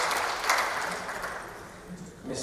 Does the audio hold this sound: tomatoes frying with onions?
no